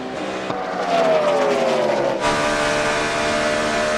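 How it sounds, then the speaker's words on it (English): A NASCAR stock car engine at Michigan screams at high revs, then the throttle eases off with a descending whine and an abrupt shift in tone, loud and close. "Just listen to that throttle and how he's working it."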